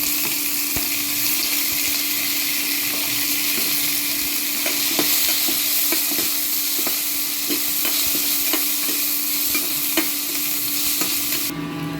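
Steady, loud sizzling of small onions sautéing in a pan, with occasional clicks and stirring scrapes throughout, no voices.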